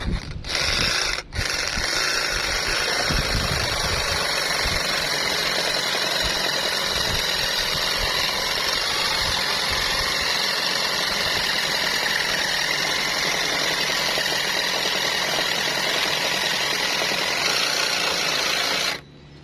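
A battery-powered saw runs continuously for the whole stretch, giving a loud, steady motor whine with rough cutting texture, then stops abruptly at the end.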